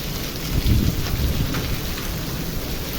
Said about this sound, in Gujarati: કરા પડવા મળ્યા છે